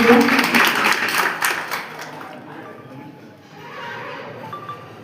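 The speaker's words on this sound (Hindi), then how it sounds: "तालियों का साथ चाहूंगी।" Audience clapping at an opening ceremony in Darbhanga, a dense burst of applause that fades after a couple of seconds into a quieter murmuring room with faint voices.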